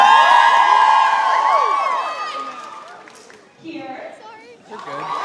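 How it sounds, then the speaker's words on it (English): A crowd at a university gathering cheers and whoops loudly, shouts fading over a few seconds, then scattered clapping and voices pick up again. "I want to have them stand up and give them a warm applause"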